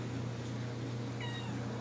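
A cat meows indoors under a low steady hum, with a short faint mewing call rising near the end over the constant background drone.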